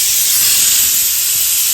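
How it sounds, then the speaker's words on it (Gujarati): A pressure cooker whistle vents steam in a loud, steady hiss that holds for the whole stretch, with no voices over it. "કુકરની સીટી"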